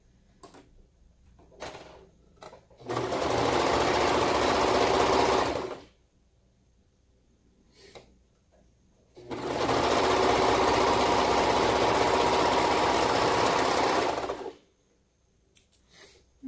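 A sewing machine stitches a seam on fabric for toddler bell-bottom trousers, running in two sustained bursts of about three and five seconds with quiet gaps between, loud and close with no talking.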